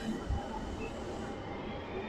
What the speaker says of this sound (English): So now we are watching a tram go by